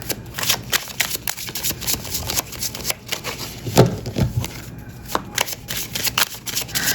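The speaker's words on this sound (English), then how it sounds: "I'm going to shuffle the Lenormand." Rapid riffling and soft slaps of Lenormand cards being shuffled, close up, in repeated bursts with brief pauses, no talking.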